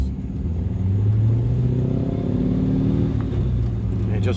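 An LS V8 powered Porsche 944 eases away from a stop with a deep, steady engine rumble and low throbbing exhaust note that holds loud and close throughout, with no one talking over it.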